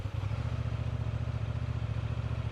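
A Honda XL750 Transalp twin-cylinder motorcycle engine fires up and settles into an even, rhythmic low burble at idle, close and steady, with no talk.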